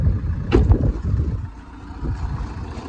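A Saab 9-5 Aero's two-litre, 160 hp diesel engine idles with a steady low rumble, joined by a few brief clatters and knocks near the start.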